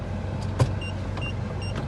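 A car, apparently struggling to back up, gives a steady low engine hum close by, with a single brief knock partway through and no voices.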